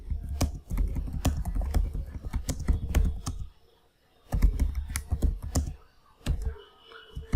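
Rapid clicking keystrokes on a computer keyboard as a password command is entered on Linux, close and steady in two bursts separated by a brief pause, with no talking.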